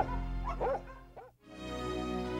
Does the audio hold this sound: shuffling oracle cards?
no